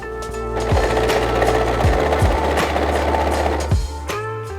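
A sewing machine runs a zigzag stitch along a trouser seam, a fast steady mechanical whir with rhythmic needle clatter, close and continuous for several seconds before slowing and stopping.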